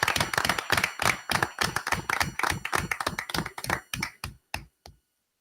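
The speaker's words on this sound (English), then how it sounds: "let's give the high school and our students in this district another round of applause" Applause for high school students at a school committee meeting: a small group claps in a brisk, close burst that thins out and stops after about five seconds.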